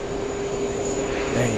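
An Uzbekistan Boeing 787 jet at JFK airport gives a steady, loud engine roar with sustained tonal whine, heard from fairly near and without pause for a brief moment.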